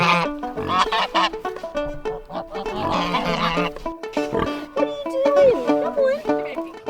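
Farm animals including chickens, geese and pigs call out in a busy, overlapping chorus of clucks, honks and grunts, fairly close and continuous throughout.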